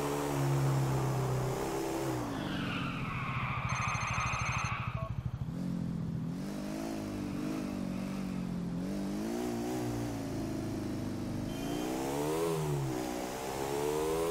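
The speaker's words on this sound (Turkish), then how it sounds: "Bu biraz daha arazi şartlarına uygun bir motor." A GTA 4 video game motorcycle, a slower, off-road-suited bike, revving and accelerating with a rising and falling engine drone that swells through several throttle pushes, close and steady, with no talk.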